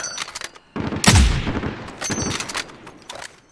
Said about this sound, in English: I shot a couple rounds and broke his plates.